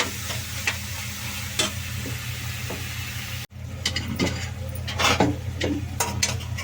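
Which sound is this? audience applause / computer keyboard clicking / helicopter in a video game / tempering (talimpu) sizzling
tempering (talimpu) sizzling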